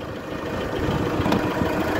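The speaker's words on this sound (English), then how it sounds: "diesel engine, and as you can hear, it purrs along beautifully" The 4.3-liter turbo diesel engine of a BTX D70 7-ton forklift idles steadily nearby, a continuous rough, low rumble with no talking.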